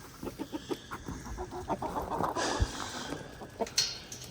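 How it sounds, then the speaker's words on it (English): Backyard chickens in a snowy yard cluck in short, repeated bursts at close range, with a few louder squawks rising near the end and no talking. "All right, chickens."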